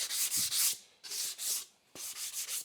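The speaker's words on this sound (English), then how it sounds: "I'm just going to give this a light sand just to clear up some of that blowout" Three bursts of light sanding on a wooden pantry pullout part, a scratchy back-and-forth rubbing, close and steady, with short pauses between strokes.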